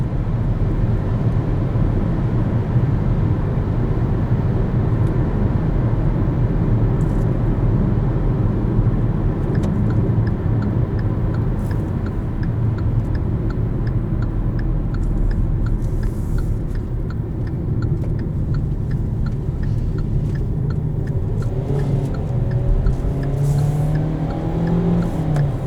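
Inside a Kia Seltos cruising at highway speed, a constant loud drone of road and engine noise holds steady throughout with no one speaking.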